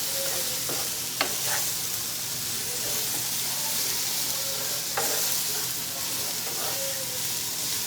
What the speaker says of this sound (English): Let it simmer a bit because it was frozen.